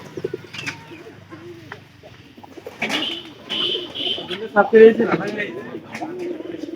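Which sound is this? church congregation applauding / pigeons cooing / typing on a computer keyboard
pigeons cooing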